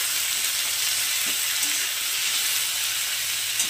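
Whole bitter gourds frying in a pan of hot oil give a steady, loud, hissing sizzle that continues without a break.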